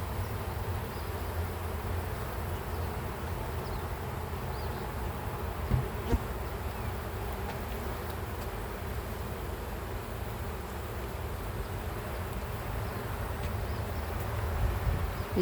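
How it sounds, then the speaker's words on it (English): Honeybees buzz steadily around an open beehive while workers bring in nectar and large drones move among the frames, a dense, continuous close hum that holds level throughout with a few faint knocks and no talking. "This just looks like bees that are bringing in nectar."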